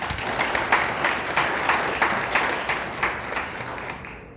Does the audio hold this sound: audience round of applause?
yes